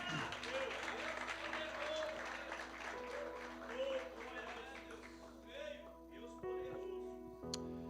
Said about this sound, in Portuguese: Quem crê nessa palavra, aplauda o nome dele nessa noite.